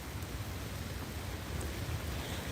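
Steady pouring rain in a botanical garden during a thunderstorm, a dense continuous hiss with low rumbling wash, heard close and evenly loud throughout with no talking.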